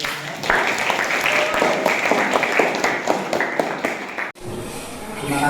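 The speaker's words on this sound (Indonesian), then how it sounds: "tepuk tangan." Applause from an audience at the close of a classroom lesson, steady dense clapping lasting about four seconds before stopping abruptly, followed by quieter room sound.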